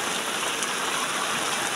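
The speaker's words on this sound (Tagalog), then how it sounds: "Guys, inabutan po kami ng ulan." Rain pours down at sea off Palawan, a dense, steady hiss of drops striking the surface with no other sounds.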